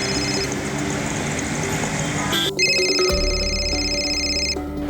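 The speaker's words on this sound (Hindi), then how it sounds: "પપ્પા તમારો ફોન છે।" A telephone rings steadily over a noisy indoor background with low rumble, its tone growing louder and clearer partway through and continuing to the end.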